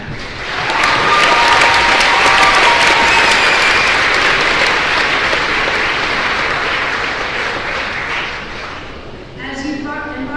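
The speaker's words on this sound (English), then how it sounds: "We can clap for them." A crowd at a high school graduation ceremony applauds teachers and staff, a dense, sustained wash of clapping that swells quickly and slowly fades, with a brief voice near the end.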